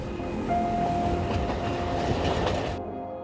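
Alishan Forest Railway mountain train rolling along its tracks, a loud continuous rumble with rhythmic wheel clatter and a thin steady squeal, cutting off abruptly near the end.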